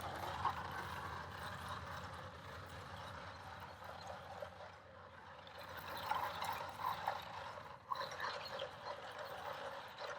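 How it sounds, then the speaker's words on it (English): Handle of a hand-held broadcast spreader being cranked to scatter fire ant treatment: a continuous soft mechanical whirring and rattling of the gear with a few small clicks, fairly quiet, with no talking. "So I'm just going to crank this handle and you'll be able to see a little bit of how this is broadcast."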